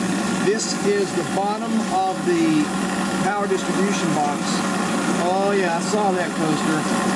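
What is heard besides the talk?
CNC machine hollowing out aluminum box with shear hog cutter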